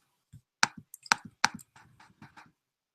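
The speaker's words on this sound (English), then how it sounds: "So clicks and key presses" Mouse clicks and key presses sound as a quick, irregular run of crisp taps, a few sharper and louder ones early and then lighter clicks, close and dry against silence.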